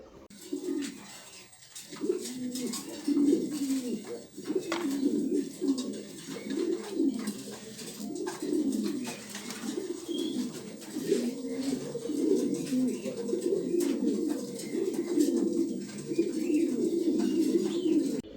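Fancy pigeons at a farm cooing steadily, several birds overlapping in low, throaty repeated coos at moderate loudness, with occasional faint chirps and light background noise.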